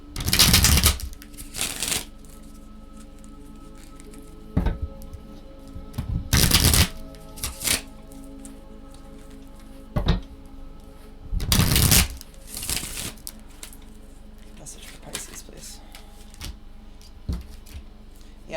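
A rubber-backed deck of tarot cards being shuffled in three loud bursts of riffling and flicking, with quieter card handling between them and no talking.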